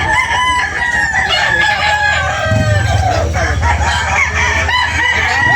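Chickens at a Philippine poultry sale, with roosters crowing loudly and repeatedly over steady clucking, a dense, close barnyard chorus throughout.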